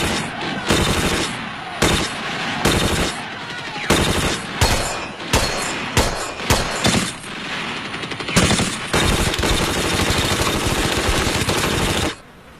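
Sustained bursts of automatic gunfire from World War II battle footage, with dense rapid volleys and short pauses between them, loud and continuous throughout with no talk.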